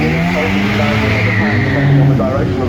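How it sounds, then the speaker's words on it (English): A Zenvo TSRS supercar drives at the Goodwood Festival of Speed, its engine giving a steady, loud drone with a shifting pitch throughout, while a voice talks over it. "So this is the Zenvo TSRS, and it's Denmark's only supercar company and Denmark's only car company"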